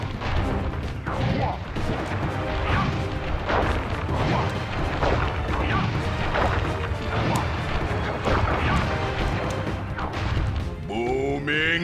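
Booming Chop attack in The Panda King video game: a dense, loud run of crashing, smashing impacts and booms over constant game music, with a rising sweep near the end.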